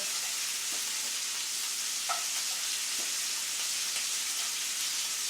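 Pork chops sizzle and fry in two pans on a stove, a steady loud hiss throughout with a few faint clinks and stirring sounds, no talking.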